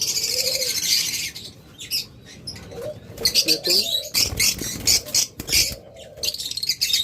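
A pair of split blue opaline budgerigars gives short chirps and squawky calls in irregular bursts, close by, with someone talking over them throughout.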